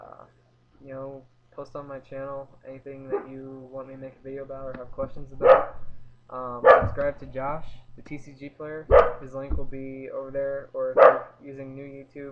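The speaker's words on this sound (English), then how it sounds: "Sorry for my dog barking." A dog barks several times in the background, each sharp bark loud and sudden, breaking through a man's steady, continuous talking.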